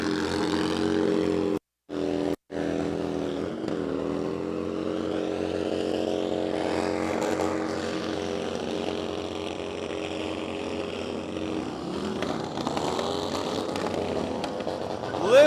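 A vehicle spins a donut burnout at the DrifterCross event in Sturgis, its engine roaring loud and close at sustained high revs, with two brief dropouts near the start and a rising surge at the end.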